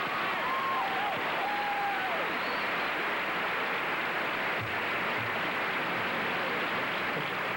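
A large concert audience roars and applauds two performers in a thick, continuous wash of crowd noise, with a few faint whistles and shouts rising above it.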